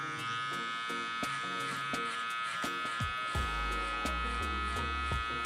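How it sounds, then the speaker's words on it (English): Electric hair clippers fitted with a number 3 guard buzz steadily through hair, a close, continuous hum broken by short clicks and shifts in pitch as the blade passes through. "I'm gonna go ahead and debulk with my number 3 guard first up into the parietal ridge"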